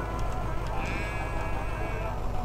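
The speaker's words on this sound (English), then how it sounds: "Oh, the sheep." Sheep bleating in a video game about driving a night bus, a drawn-out bleat standing out over a steady engine-like drone and game ambience.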